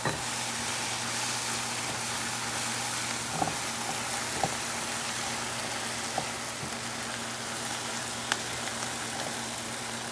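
Ribeye steak cooking liquid stirred in a pan, with a steady broadband sizzle throughout and a few faint clicks and knocks of the spoon against the pan.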